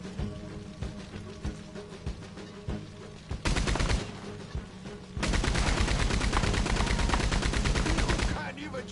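Gunfire in Red Dead Online: a rapid volley of loud shots, first scattered, then a dense sustained burst lasting several seconds before it breaks off, with faint voices underneath.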